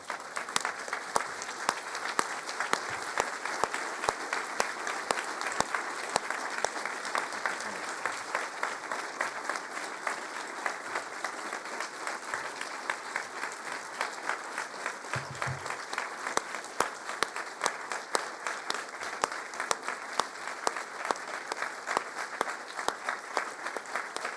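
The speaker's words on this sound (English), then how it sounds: "give them a quick round of applause" A lecture audience applauds after being asked to stand, a dense, steady wash of clapping that holds at an even level for the whole stretch, with no talk over it.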